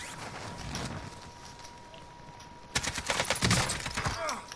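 In the video game Warzone, gunfire plays out as a quiet ambient stretch followed by a loud cluster of rapid shots and impacts, with game noise throughout.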